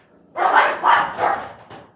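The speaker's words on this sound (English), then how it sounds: "The dog started barking" A house dog in Lexington County, South Carolina barks three times in quick succession, followed by a softer fourth yip, moderately near and on its own without talk.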